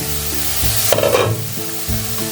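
Vegetables for vegetable noodles sizzle steadily in a pan over low heat, with a few scraping bursts as they are stirred, close and fairly loud.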